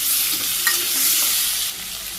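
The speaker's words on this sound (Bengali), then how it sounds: "সবজিগুলো দিয়ে দিই, আলু আর পটল, ওখানে কাঁচামরিচ আছে একসাথে" Potatoes and pointed gourd with green chillies and cumin fry in hot oil in a Bangladeshi village kitchen, giving a loud, continuous close sizzle with a brief scrape of stirring.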